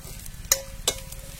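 Chopped onion with pounded coconut and garlic frying in a pan for a drumstick pod curry, giving a steady low sizzle with two sharp stirring scrapes close by.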